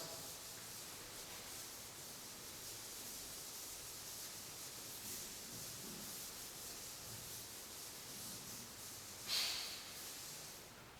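A board being wiped with an eraser produces soft, continuous rubbing strokes that sound faint and breathy, with one brief brighter scrape near the end and no voice.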